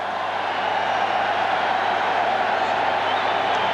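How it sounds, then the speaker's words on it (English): Large stadium crowd at the Sydney Football Stadium during a 1989 Australia versus Israel football match, a steady, dense roar of many distant voices holding evenly throughout without breaks. "Huge crowd here at the Sydney Football Stadium."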